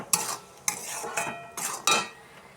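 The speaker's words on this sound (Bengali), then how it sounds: "এবার এটাকে একটু কষিয়ে নেব।" Spice paste with salt and turmeric being stirred and sautéed in a pan, four or five quick scraping strokes over a light sizzle, close and fairly loud, no talk.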